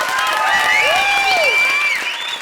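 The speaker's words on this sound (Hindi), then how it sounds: "जोरदार तालियां तीनों हीरोज के लिए।" Studio audience of a comedy show applauds under loud whooping and whistling sound effects, the clapping dense and continuous throughout.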